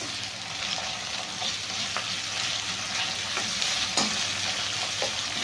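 Ginger paste frying in a pan for a restaurant-style gravy, a steady close sizzle with occasional spatula scrapes and taps against the pan, growing slightly louder toward the end.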